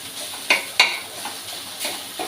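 Steamed eggplant being mashed with onions for bharit, heard as soft, close squishing and scraping strokes with a few sharper taps of the utensil against the pan, spaced irregularly over a faint hiss.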